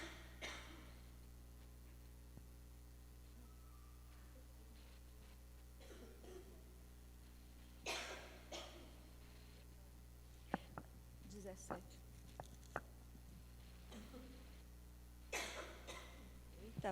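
Several short, sharp coughs and a throat clear break out in a quiet church Bible-study room, scattered over the span, with faint room noise and no talk between them.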